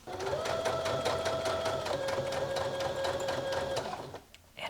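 A sewing machine runs steadily, stitching in the ditch from the top of a garment seam to catch a folded seam allowance on the inside, a continuous close whir that stops near the end.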